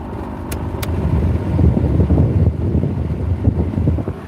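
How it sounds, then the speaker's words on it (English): A car air conditioner blower motor with worn bearings runs while the car sits idle, a loud, steady rushing drone with a low rumble and faint irregular rattling throughout. "That's my blower motor. I think my blower motor for my air conditioner, I think the bearings are shot"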